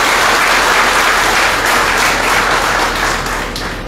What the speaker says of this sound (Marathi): टाळ्या नकोत, मत द्या.